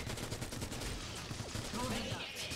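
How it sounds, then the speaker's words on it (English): Rapid bursts of gunfire crackle through a sci-fi shooter firefight in Guardians of Orion, dense and continuous across the whole moment with no voices over it. "Why am I being shot at?"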